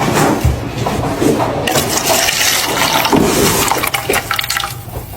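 A can of Coke is poured out, making a loud, close, continuous gush and splash of fizzy liquid that lasts several seconds.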